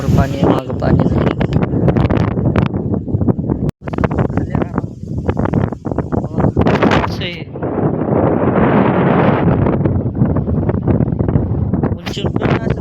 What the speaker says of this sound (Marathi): वारं सुटलं वारं.